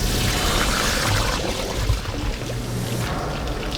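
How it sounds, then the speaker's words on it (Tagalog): Two crocodiles stir up water bubbling and churning, a continuous low gurgling wash with pouring-like splashes, fairly close and steady throughout with no voices. "Maririnig din ang ginagawang water bubbling ng dalawang buhaya."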